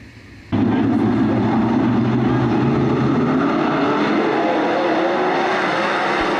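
A pack of 410 sprint cars roars off at the start of a heat race at Attica Raceway Park, a loud, sustained engine wail filling the air with no talk over it.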